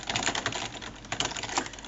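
Typing on a computer keyboard, a quick uneven patter of close keystrokes clicking continuously with no voices.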